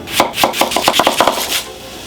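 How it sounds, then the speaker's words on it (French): A red-handled knife chops a red onion on a board in a kitchen, about a dozen quick, close, evenly paced cutting thuds in a short loud burst, with no voices. "Oignon rouge comme ça, couteau rouge bien sûr, et on coupe comme ça."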